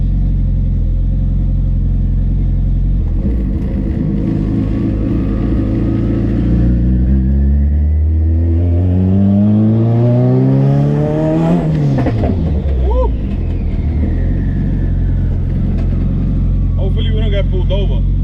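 A 700-horsepower turbocharged Honda Civic EK accelerates hard on a street, its engine note climbing steeply through the revs to a loud peak and then falling away, under steady road and wind noise.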